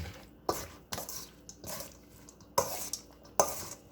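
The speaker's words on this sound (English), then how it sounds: "Just mix until it's very well combined." Batter for bacon egg foo young is mixed in a bowl, with a run of close, rhythmic utensil knocks and wet scraping strokes at roughly half-second intervals, moderately loud and without talk.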